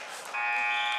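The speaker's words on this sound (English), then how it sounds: "At the buzzer, Lucas Carpenter will win." A buzzer sounds in a gym to end a varsity high school wrestling match, a steady harsh electronic tone that cuts in after a short moment of crowd noise and holds loud to the end.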